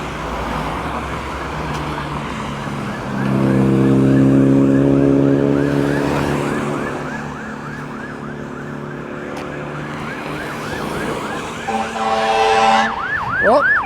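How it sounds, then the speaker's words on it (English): Wailing fire truck siren sweeps up and down as the engine climbs a hill along busy Main Street in Dartmouth, swelling loud while passing close, fading, then rising again amid steady road traffic. "Fire trucks coming up the hill."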